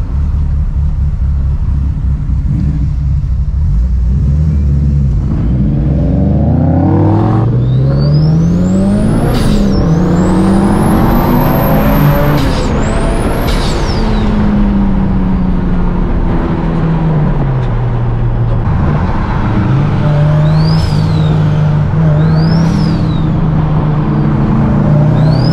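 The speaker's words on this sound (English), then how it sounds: "I legit had to let off to cover my ears because your turbo was so freaking loud" A turbocharged Mitsubishi Evo 8 accelerates hard and loud, its engine note climbing through repeated gear pulls with high turbo whine and whooshes, close and continuous with no talk over it.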